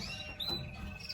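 Small birds and chicks chirp in a bird room where mosaic redback carrier pearl birds are kept, with thin high tweets repeating over a steady, fairly quiet room hum.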